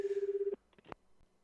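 A telephone ring tone in the video game Chaos;Head Noah, a single pulsing electronic ring that cuts off abruptly, followed by a few faint clicks.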